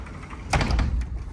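An unlockable sliding patio door in a resort room rolls open with a brief rumbling slide and a light knock, close and fairly loud.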